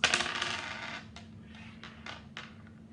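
Two dice for a counting game clatter loudly into a cup, then give a few lighter rattling taps as they settle, alone without talking.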